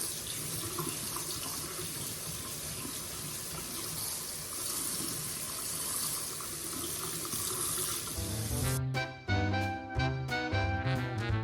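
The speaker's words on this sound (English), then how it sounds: "I just get some hot water and I just start running the water over it" Hot water runs steadily from a tap over a paintbrush for several seconds, a continuous splashing rush, then cuts off to a few clinks and drips.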